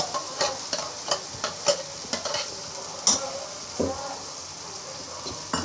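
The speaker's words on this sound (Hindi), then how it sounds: "अब मैं इसमें ये टमाटर की प्यूरी डाल दूँगी" Tomato puree sizzles in an oily frying masala, with a steady hiss broken by repeated sharp scraping strokes of a spoon stirring in the pan. Close and lively, no talking.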